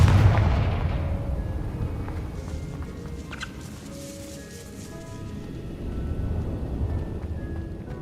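Confringo fire spell blast in the Hogwarts Legacy video game: a sharp explosive burst at the start, then a decaying rumble with faint crackling and scattered tonal game effects.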